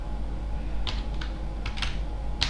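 Keys clatter on a computer keyboard in a few quick irregular bursts over a steady fan hum, close and moderately loud, with no talk.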